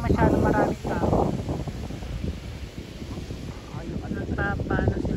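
Wind at Gabici Beach in Cattolica, Italy, blowing steadily as a low rushing roar against the microphone, with people talking over it throughout.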